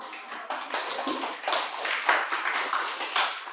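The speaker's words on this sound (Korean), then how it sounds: "박수." Students in a university web programming classroom clap together in a short, dense burst of hand claps, close and fairly loud, lasting a few seconds without talk.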